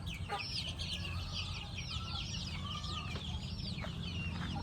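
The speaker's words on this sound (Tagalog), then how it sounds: "dumami ng dumami yung mga manok po namin dito na native" Native chickens on a farm cluck repeatedly with short, bright calls over a steady, noisy outdoor background, several birds audible at once and fairly close.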